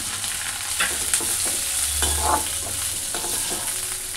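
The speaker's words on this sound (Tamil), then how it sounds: "இப்போ கடுகு பொரிஞ்சு வந்தோடனே இப்போ நம்ம வெட்டி வச்ச ஆரஞ்சு தோலை இதில் சேர்த்துக்கலாம்" Orange peel pieces fry in oil with popped mustard seeds, a loud continuous close sizzle with spoon stirring and scraping against the pan throughout, no voices.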